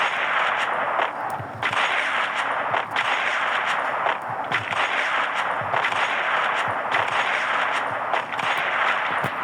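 Gunfire in the Free Fire mobile shooting game, a dense run of sharp repeated shots and cracks with clattering effects, continuous and loud throughout.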